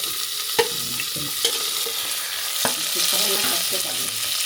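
Onions frying in a pan and being mixed in, steady hiss and sizzle with several scraping stir strokes, close and fairly loud, no talking.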